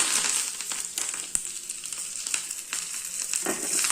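Asafoetida, a dried chilli and curry leaves are tempered in hot oil with mustard seeds for a yellow pumpkin gravy. A close, continuous sizzle carries scattered sharp crackles and pops.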